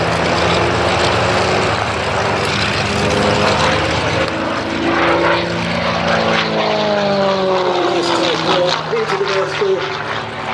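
A Gamebird GB1 aerobatic propeller plane performs at an airshow at Sywell, its loud engine droning continuously and shifting in pitch as it climbs and rolls, with a commentator talking over it throughout.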